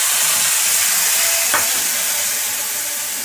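Tomato and ginger frying with cumin in hot oil give a steady, dense sizzle throughout, with a brief stirring scrape midway and no voices.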